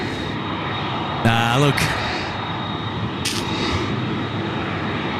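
A Qantas jet airliner bound for Perth rumbles at Sydney Airport with a steady, broad engine roar. A person briefly speaks over it.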